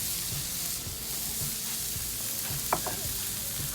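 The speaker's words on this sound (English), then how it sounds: "And now we're just gonna add onions." Onions frying in butter in a pan for a patty melt, a loud, steady sizzle throughout with a soft scrape of a spatula.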